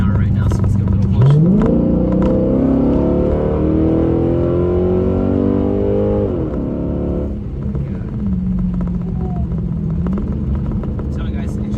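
A car with a DiabloSport Trinity T2 tune, rolling at about 40 mph, revs hard and accelerates, its engine note climbing loudly through a gear change and then settling into a steady cruise, with someone talking over it.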